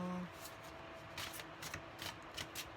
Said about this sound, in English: Vertical shuffle.